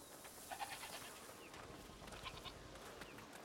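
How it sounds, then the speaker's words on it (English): Goats bleating in the village of the video game A Plague Tale: Requiem, several short calls rising over a steady ambient background. "What's over there? Goats!"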